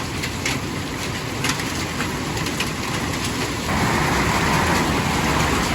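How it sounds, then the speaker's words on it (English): Heavy storm rain mixed with hail pours down outside a home, a dense continuous roar that swells louder partway through, with scattered sharper impacts and a steady high-pitched hum on top. "There's hail mixed in with the rain"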